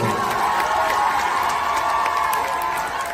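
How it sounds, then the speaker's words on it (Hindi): Audience at a live Punjabi stage show clapping and cheering, a steady crowd roar with scattered whoops and claps running throughout, fairly loud and sustained. "बड़ी ताली मारो"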